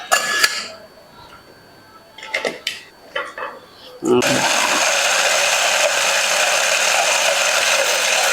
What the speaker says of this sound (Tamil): தண்ணி ஊற்றி தான் அரைக்கணும்.